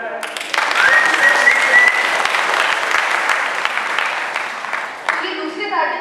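An audience claps steadily for several seconds, a dense wash of applause that fades slightly before a voice comes in at the end.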